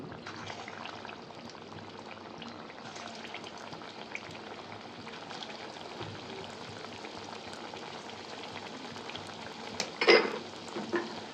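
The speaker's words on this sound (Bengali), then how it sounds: "যতক্ষণ কোপ্তা ভাজা হচ্ছে" Yam kofta balls fry in hot oil in a kadai with a steady, moderate crackling hiss that runs throughout, broken by a brief clatter near the end.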